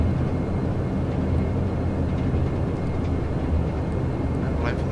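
Steady broadband rumble inside an airliner cockpit as the aircraft rolls out on the runway after landing at Glasgow, a continuous roar with no distinct breaks and no voices heard.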